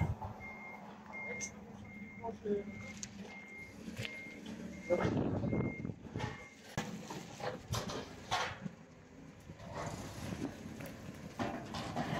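A delivery truck backs up while unloading outdoor storage boxes, its reversing alarm sounding a regular series of clear beeps over engine rumble, air hiss and clattering movement.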